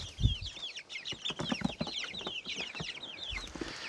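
Backyard chickens clucking continuously in a coop, several birds overlapping in quick, busy calls close by, with a few low thumps in between.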